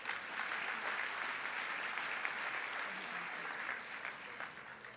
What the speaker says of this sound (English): Give Peggy a round of applause.